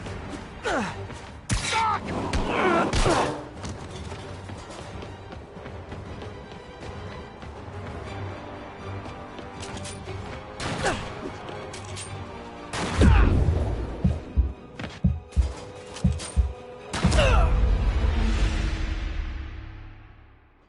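Enemy sniper gunfire in the Spider-Man PS4 video game, with sharp shots and short bursts clustered near the end over a busy game soundtrack and background voices.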